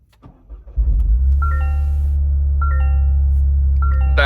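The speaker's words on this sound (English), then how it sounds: "let's get in the car and start her up" A Toyota GR Corolla cranks and fires after a few interior clicks, settling into a loud steady idle with a low rumble and chiming warning tones repeating over it.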